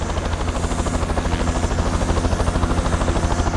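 Swiss Super Puma helicopter lifting off for a firefighting mission with an empty water bag, its rotor thudding in a fast, steady rhythm over a loud engine whine, close and continuous.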